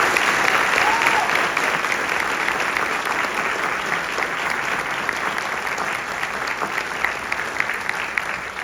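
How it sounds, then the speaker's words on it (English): Sustained applause from an audience at a Disneyland Resort ambassador ceremony, a steady wash of clapping that holds evenly loud for the whole stretch. "Can we get a round of applause?"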